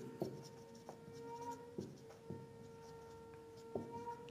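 A pen or chalk writes out a math solution in short strokes and taps, with a few sharper knocks against a faint steady background hum; quiet and close, no speech.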